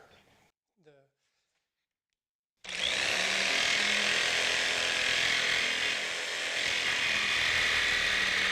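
A power saw cuts out the back corner of a wooden panel for a Jeep storage platform, starting abruptly after a brief spoken remark and a pause, then running loud and steady as it bites through the wood.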